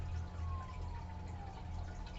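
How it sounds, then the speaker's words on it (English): An ambulance siren sounding outside a house, a faint, steady wail carrying from a distance with no talk over it. "I hear an ambulance outside my house right now"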